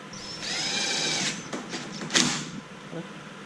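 Power drill tightening screws on a 2019 Ford F-150 grille, a close whirring burst of about a second followed by a few short clicks and taps.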